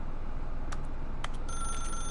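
A telephone ringing in The Stanley Parable, heard as a few short bright rings in succession followed by a sustained electronic tone, fairly clear over a quiet background.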